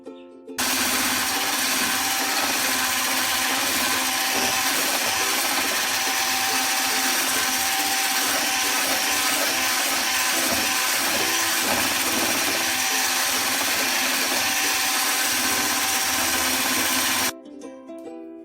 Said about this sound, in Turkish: Unumun üzerine onu da ilave ediyorum. Şimdi tekrar çırpacağım.